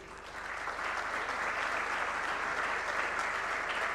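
Conference audience applauding a panel speaker on poverty and work, an even wash of clapping from a hall that builds quickly and holds steady.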